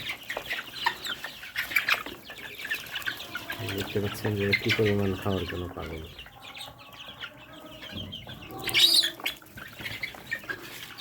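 Fayoumi chickens on a rooftop poultry farm cluck and call in bursts, with a brief flurry of wing flapping, under and between a man's nearby speech.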